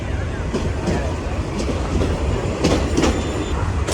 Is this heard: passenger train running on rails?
yes